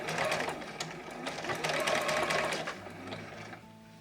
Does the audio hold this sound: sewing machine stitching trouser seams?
yes